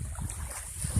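Evening on a calm Caspian Sea beach near the village of Manas, Dagestan, in July: wind rumbling across the microphone over soft, steady wash of shallow water, with no talking.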